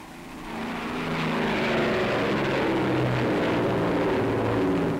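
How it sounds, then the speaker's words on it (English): Avro Lancaster bombers roar down a wartime runway on takeoff, their propeller engines making a dense, continuous drone that swells and holds loud throughout. "29 Lancasters race along the runway"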